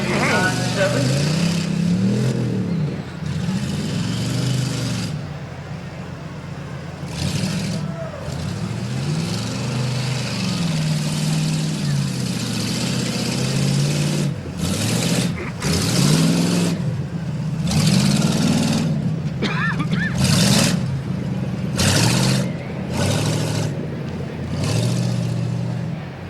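A 1989 Chevy rough truck revs hard around a dirt course at a county fair, its engine surging and dropping in repeated throttle bursts, loud and continuous, with an announcer talking over it throughout.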